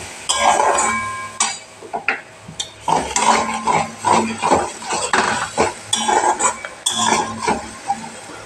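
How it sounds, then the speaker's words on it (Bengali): A metal spoon scrapes and clinks against a pan while masala is stirred and fried with softened onion and tomato for a pointed gourd and small fish curry, in steady close rhythmic strokes with a faint sizzle underneath. "এবার মশলাটা দিয়ে দেবো, দিয়ে কষাতে থাকবো"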